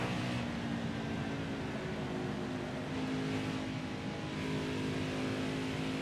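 A race truck engine in the NASCAR Heat 5 video game holds a steady, loud, droning whine on a qualifying lap, alone and unbroken throughout.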